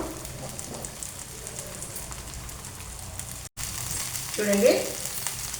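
A dosa crisping on a hot griddle gives off a steady close sizzle and light crackle, with brief bursts of louder spitting near the end and one short dropout in the middle.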